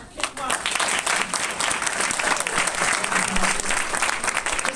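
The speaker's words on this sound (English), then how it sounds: "let's applaud for Pastor Kent Roberts." A church audience breaks into sustained, loud applause for a pastor being introduced, many hands clapping densely and steadily from start to finish, with voices mixed in.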